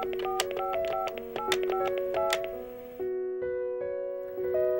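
A telephone being dialed, a quick series of distinct tonal beeps of different pitches, followed by longer sustained tones, clear and close with no speech.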